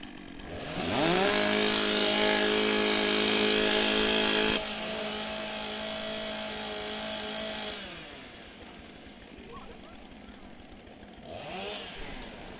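Several STIHL chainsaws at a timbersports championship in New Zealand rev loudly together for a few seconds, cut off abruptly, then idle and fade while crowd noise and a brief rev return near the end.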